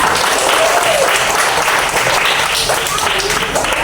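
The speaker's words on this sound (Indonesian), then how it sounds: "Tepuk tangan untuk kawannya." Children applauding a classmate in a classroom during a lesson, close, lively clapping that carries steadily for a few seconds, with faint voices mixed in.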